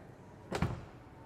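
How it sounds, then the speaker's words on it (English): A single muffled thunk of an Aston Martin DBX707's door shutting, short and close, over a quiet background hum. "Now if I close the door, you're able to see"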